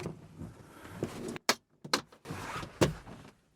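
Releasing the levers on the rear seat of a Vauxhall Corsa D (Opel Corsa D) gives a series of sharp plastic clicks and clunks, then a thud as the seat folds down, all close by.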